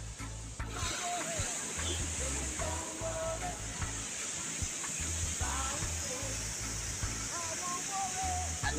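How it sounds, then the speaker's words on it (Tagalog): Waves crash and wash continuously nearby at a rocky lagoon shore in Mapanas, Northern Samar, a loud, hissing roar of churning water with occasional voices faintly underneath. "lakas ng alon mga guys."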